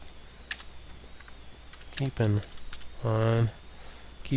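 A computer keyboard is typed on in scattered light taps while someone speaks between them.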